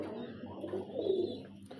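A chapra pigeon coos softly and steadily at close range, a low rolling murmur building slightly in the middle, with no talk over it.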